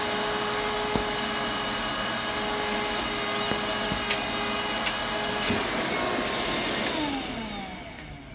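A suction device whirs steadily and close with a continuous droning hum and faint ticks, then winds down toward the end.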